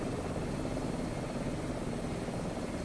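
Helicopter engine and rotor in Microsoft Flight Simulator 2024, a steady loud drone throughout with no change in level, heard alone without speech.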